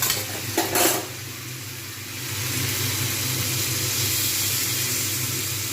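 A cauliflower, potato, pea and bori curry hisses and bubbles in the pot just after water is poured in, with a short burst of louder splashing and stirring before a steady simmering sizzle that stays even.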